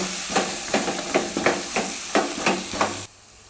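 Ground masala sizzling and frying in a hot pan, a steady hiss broken by regular stir-scrape strokes about every third of a second, close and fairly loud, then cutting off abruptly near the end.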